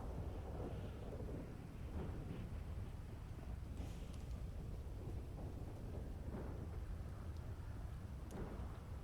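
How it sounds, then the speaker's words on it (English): Thunder rolls low and continuous beneath steady rain and wind rumble, faint and distant-sounding, sustained throughout without clear separate claps. "The thunder's louder than you."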